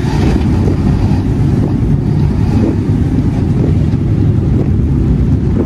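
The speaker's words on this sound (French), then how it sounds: "T'as vu le moteur, là, le bruit qu'il fait?" Loud, constant low drone of an overheating car engine with a rough, laboring rumble and wind buffeting, steady from start to finish.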